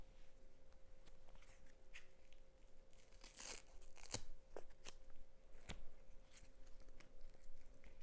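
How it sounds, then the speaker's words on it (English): Velcro strap on a compression brace being pulled open, a series of close, sharp ripping bursts scattered over several seconds with quieter crinkling between them. "If you need to adjust them, undo the Velcro."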